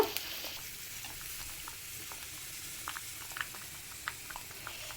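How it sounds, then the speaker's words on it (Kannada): A pot of potatoes bubbling at a steady boil, with soft irregular pops and gurgles over a quiet, constant hiss. "ಆಲೂಗಡ್ಡೆನ ಬೇಯೋಕ್ಕಿಟ್ಟಿದ್ದೀನಿ, ಅದು ಬೇಯ್ತಾ ಇದೆ"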